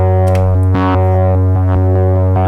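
A sustained, buzzy Korg MS-20 synthesizer tone with distorted harmonics, punctuated by small sharp clicks at irregular intervals throughout.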